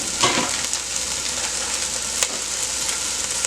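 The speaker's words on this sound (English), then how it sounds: "Then you're going to put your hamburger meat in." Hamburger meat sizzles and crackles steadily in a hot pan, a dense broadband frying hiss with a few sharper pops, loud and close with no talking.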